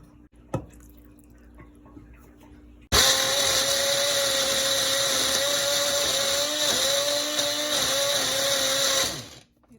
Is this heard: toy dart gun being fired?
no